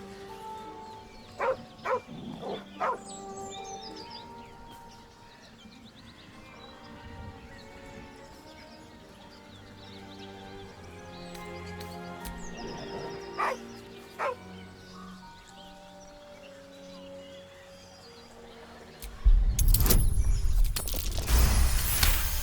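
Dog in the Baldur's Gate 3 video game, a few scattered barks and yips over quiet ambience, then a louder burst of shuffling noise near the end.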